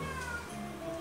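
A cat meows once in a short, drawn-out, slightly whiny call, quiet and close in an indoor studio, with no talking over it.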